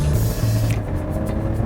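Mercedes-Benz GLE SUV with a 380 hp engine accelerating hard under full throttle, a loud, steady low engine drone filling the whole stretch with constant road and cabin rumble.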